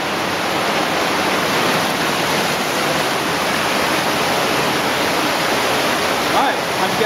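Loud, steady roar of water resurging into a cave streamway and tumbling down a waterfall in the flood passage, broadband and continuous throughout with no breaks.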